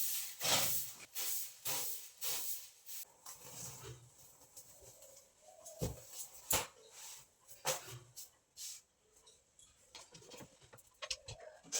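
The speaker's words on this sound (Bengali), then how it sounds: "তার আগে একটু ঝাড়ু দিয়ে নিই" Brisk, irregular swishes of a broom sweeping a floor, each stroke a short bristly hiss, close by and alone with uneven pauses between bursts.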